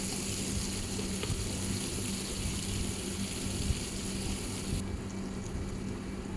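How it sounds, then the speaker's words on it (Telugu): Bay leaves, cloves, cardamom and ginger-garlic paste fry in hot oil for a dhaba-style egg curry, giving a steady, dense sizzle that continues evenly throughout with no talk. "ఆయిల్ హీట్ అయిన తర్వాత 2 బగారాకులు, 2 లవంగాలు, 2 యాలక్కులు, కొంచెం అల్లం వెల్లుల్లి పచ్చివాసన పోయేంత వరకు వేయించుకోండి"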